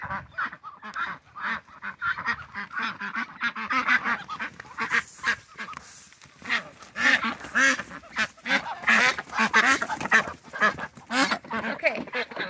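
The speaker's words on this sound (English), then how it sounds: "that super loud quack means this is a girl" A female duck quacks loudly and repeatedly, close by, alongside other ducks or geese honking, with someone talking over parts of it outdoors.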